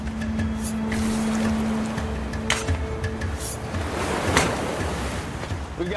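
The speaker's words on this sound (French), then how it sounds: "Il y a de la houle, et du coup les vagues vont encore plus loin." Sea waves driven by swell roll and wash continuously while a sea breeze rises with the incoming tide, loud and near with breeze rumble on the microphone and a faint steady hum underneath.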